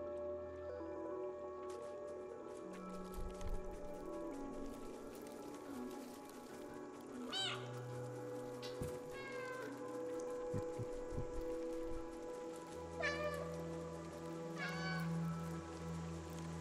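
Cats in the video game Stray give a few scattered, quiet meows over a soft ambient backdrop of drips and low music, with no talking.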